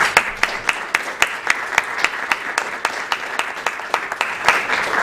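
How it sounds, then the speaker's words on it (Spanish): An audience claps at the close of a talk about comics, sparse and rhythmic with distinct individual hand claps rising above a softer bed of applause, moderately loud and sustained. "la forma de dar las gracias a que tenemos aquí es daros un fuerte aplauso"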